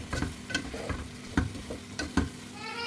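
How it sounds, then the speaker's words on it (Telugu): A spoon stirs curry leaves into sambar in a pan, giving several scraping strokes over a soft, steady sizzle, close and moderately loud. "కరివేపాకు వేసుకొని మళ్ళీ ఒకసారి మిక్స్ చేసేసుకోండి"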